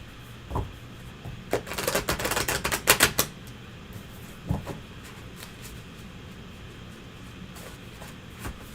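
A deck of tarot cards is shuffled in a quick, crisp flurry of papery riffling and tapping that lasts about two seconds. A few isolated clicks and taps follow over a quiet room background.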